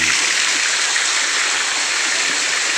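Khun Korn waterfall, a single-tier forest fall in Chiang Rai, Thailand, gives off a loud, unbroken rushing roar of falling water, steady and close with no voices.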